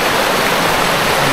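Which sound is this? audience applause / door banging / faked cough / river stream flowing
river stream flowing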